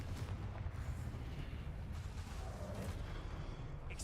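Continuous deep, booming rumble of a Confringo blasting spell in Hogwarts Legacy, with loud, dense low-end explosions and no clear gaps.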